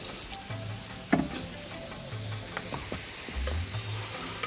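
Shiitake mushrooms sizzle steadily in a hot wok, a continuous soft frying hiss broken by occasional clinks and scrapes of stirring, close and alone without voices.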